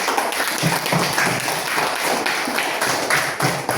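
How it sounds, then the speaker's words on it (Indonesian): Classmates in a school civics lesson clap for a student group after its presentation, giving a dense, steady patter of many hands at close range that holds through the whole stretch. "tepuk tangan dulu untuk kelompok kita"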